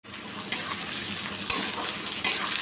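Onions fry in a pan for chicken kosha, making a continuous sizzle broken by three crisp stirring scrapes, close up with no speech.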